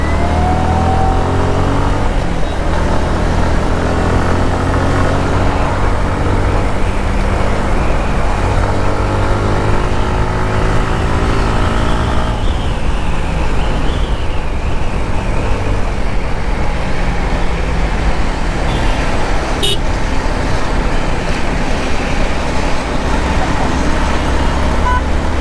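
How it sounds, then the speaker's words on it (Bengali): Cars, buses and trucks idle and rev in a night traffic jam on a flyover, producing a loud, continuous engine drone with a sharp burst near the end. "তুমি এখানে দাঁড়িয়ে তো পুরো ফ্লাইওভারে জাম বাঁধিয়ে দিয়েছো"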